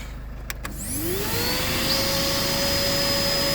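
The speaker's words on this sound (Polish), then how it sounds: "odkurzacz 1200 W podłączamy obciążenie" A 1200 W vacuum cleaner powered through a Green Cell 2000W pure sine inverter wired to a car battery switches on after a couple of clicks, its motor whining up and then droning steadily and loudly close by.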